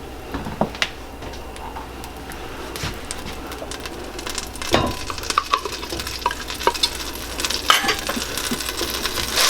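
Sausage fries in a pot for jambalaya, a soft continuous sizzle with scattered clinks and scrapes of stirring close by.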